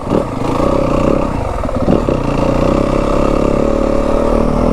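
A Yamaha WR250F dirt bike engine held in second gear on Flagstaff single track, a loud, close, continuous buzzing drone with slight rises in revs and no talk.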